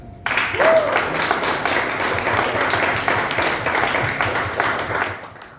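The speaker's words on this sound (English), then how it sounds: "So give a huge round of applause for Toastmaster Neville and Toastmaster Deep" A crowd applauds steadily for several seconds, dense clapping filling the room, with a brief tonal chirp near the start.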